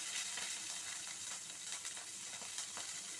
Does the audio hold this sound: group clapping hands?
no